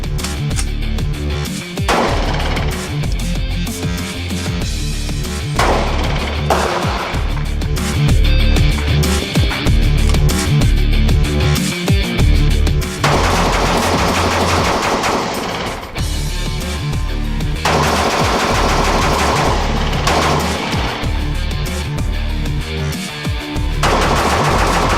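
A Tuason Craig Magnum rifle fires repeatedly at a watermelon, with loud close shots and sharp cracks in dense bursts over a steady noisy background.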